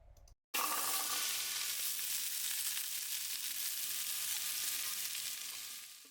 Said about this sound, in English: we're going to give them a really good saute